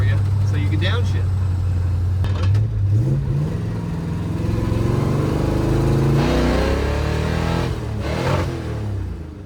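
A barn-find 1958 Plymouth engine revs hard and loud, its pitch climbing and falling through several pulls, with a person talking briefly over it.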